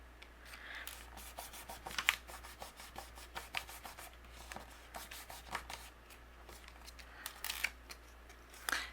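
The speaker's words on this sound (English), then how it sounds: "I'm just going to ink it up directly on the package with my Memento ink." A stamp is inked directly on its plastic package with a Memento ink pad, producing a quick series of soft, close dabbing and rubbing taps in an uneven rhythm.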